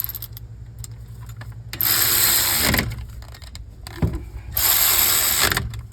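A ratchet works on 14mm brake caliper bolts on a 2015 Toyota Highlander, two bursts of rapid clicking and grinding separated by a pause, close and fairly loud.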